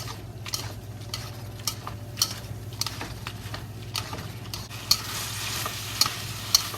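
Fish-flavored shredded pork being stir-fried in its sauce, a continuous sizzle and hiss from the pan with repeated scraping and clinking of a metal utensil against the wok, close and loud.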